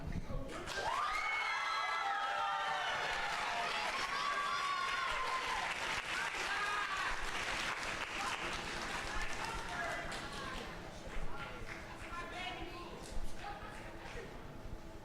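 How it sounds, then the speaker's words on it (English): An audience at a high school poetry slam erupts in sustained applause and cheering, dense and loud, with whoops and voices mixed in before it gradually thins toward the end. "My hands hurt from clapping"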